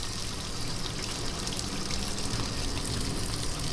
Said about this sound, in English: So, adding the water, and this is for the rinse cycle.